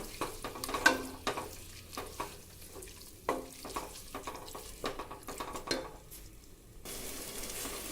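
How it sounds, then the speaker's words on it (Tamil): Close, steady sizzling of masala, mutton, tomato and onion frying in oil for mutton thokku, with a spatula scraping and knocking against the pan as it is stirred. "நல்லா அந்த எண்ணெயிலேயே மசாலா, மட்டன், தக்காளி, வெங்காயம் எல்லாமே நல்லா வதங்கி வரட்டும்."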